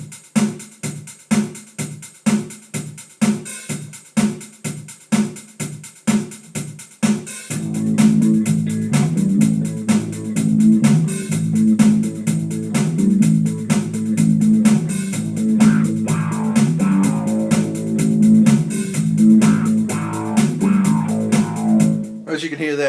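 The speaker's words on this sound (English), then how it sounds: "it's a drum machine, some bass guitar and some guitar" Backing track built from a drum machine, bass guitar and guitar: steady electronic beats open alone for several seconds, then bass and guitar join in a continuous, full mix with no voices.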